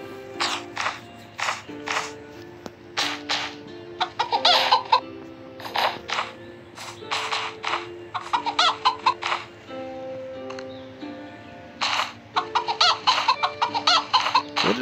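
Chickens cluck and squawk in scattered bursts around feeding time, moderately near, with irregular calls over steady low background noise.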